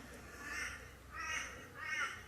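A crow caws three times in a slow, even rhythm from a middle distance in a quiet autumn garden, each call harsh and drawn out, with nothing else heard.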